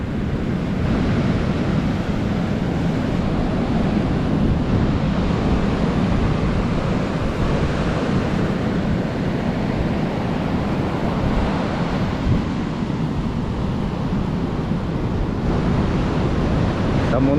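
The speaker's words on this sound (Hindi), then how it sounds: "अपनी लहरों की आवाज़ से पूरे वातावरण को सराबोर किए हुए" Steady roar of ocean surf washing in continuously on a Goa beach, broad and rushing, with some wind buffeting the microphone and no voices.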